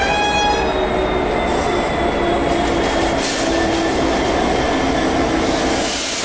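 A British Rail Class 158 diesel train rumbles past close by at Lincoln, loud and continuous, with a metallic wheel squeal and steady engine roar throughout.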